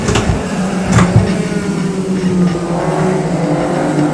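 A racing car engine in a video game drones loudly and steadily at sustained speed in fifth gear, with a few brief throttle swells near the start and no talk over it.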